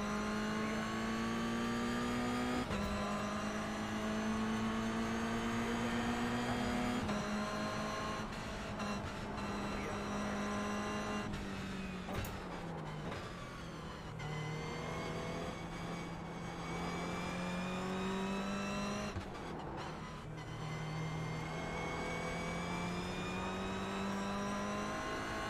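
A Ferrari GT3 engine in a racing video game, loud and steady, pulls up through the revs and drops at each gear change. Several acceleration runs are heard across the clip, with no talking over the engine.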